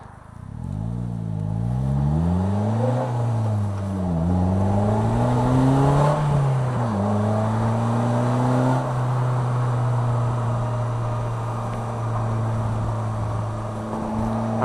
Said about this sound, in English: All right, here's some engine sound for you guys.